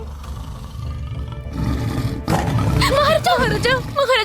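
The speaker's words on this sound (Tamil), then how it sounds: "வெளிய புலியோட சத்தம் கேக்குது." A tiger roars outside in a Tamil period TV drama about Tenali Raman, a low, rumbling growl running under a voice calling out, with the speech growing louder over the final seconds.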